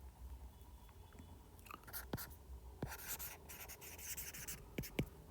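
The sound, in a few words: writing physics solution by hand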